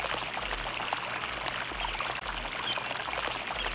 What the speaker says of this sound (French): cela semblait plutôt être le son de l'eau qui coule.